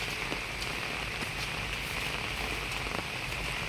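Steady rain falling on a garden in rural Thailand, a dense even hiss of drops with scattered louder patters on nearby surfaces, continuous throughout with no voices.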